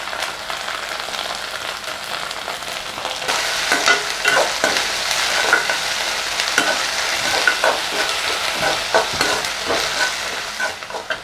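Sliced onions frying with ginger garlic paste and salt for a potato capsicum gravy, a steady close sizzle with repeated stirring scrapes throughout.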